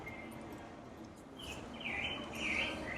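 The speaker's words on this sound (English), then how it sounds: "Are the bird sounds? The little bird sounds, yeah." Little birds chirping in the Central Park garden area aboard the Royal Caribbean cruise ship. Several bright, high tweets come in short bursts above a constant low rumble of ambient noise.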